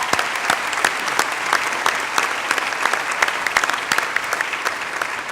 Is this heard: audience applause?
yes